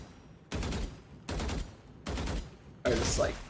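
Bursts of gunfire from a shooting video game, four distinct volleys of rapid shots each lasting about half a second, evenly spaced and loud, with a brief voice at the end.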